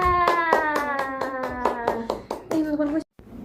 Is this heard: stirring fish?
no